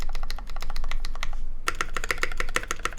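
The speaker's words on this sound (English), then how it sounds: "But that space bar sounds amazing." A custom mechanical keyboard clacks under fast, dense typing, crisp individual key hits in quick succession with a brief lull before a busier, brighter burst of keystrokes resumes; nearby and clear, no talking.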